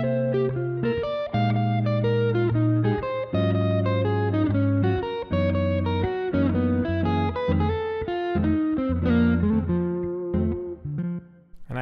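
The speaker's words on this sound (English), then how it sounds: "So here is the sound of the triad pairs." A jazz fusion guitar plays fast triad pair lines over blues changes. The runs are dense and continuous, with a steady low bass underneath, and sound close and loud for about twelve seconds with no talking.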